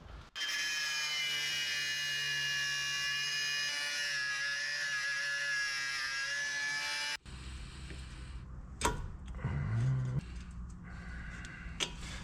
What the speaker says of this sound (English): One thing I am really good at is grinding.